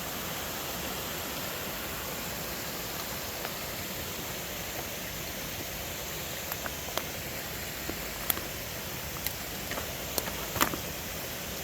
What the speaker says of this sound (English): so now we're below the waterfall in the gully here.